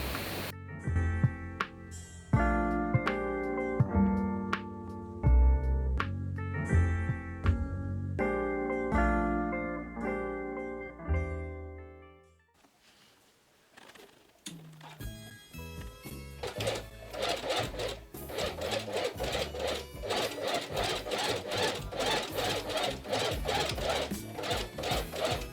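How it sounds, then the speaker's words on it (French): A sewing machine joins the front and back of a ruffled crop top, running as a steady, dense mechanical whir through the second half after a stretch of melodic background music. "Et maintenant, je vais juste coudre le devant et le dos ensemble."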